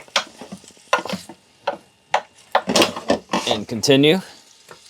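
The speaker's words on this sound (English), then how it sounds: "here goes the onions. I'm just going to mix those in" Onions stirred into sizzling meat in a Ninja Combi, with soft scraping and frying hiss between stretches of a person talking over it.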